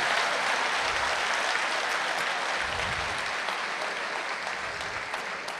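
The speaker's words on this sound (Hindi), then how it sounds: "जोरदार तालियों से हमें आशीर्वाद दें" An audience at a poetry gathering gives loud, continuous applause, a thick steady clatter of many hands that holds for several seconds without pause.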